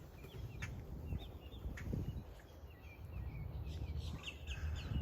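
Wood ducks call near a Florida farm pond: thin, rising squeals and whistles come and go at a moderate distance over a steady outdoor background, with no voices.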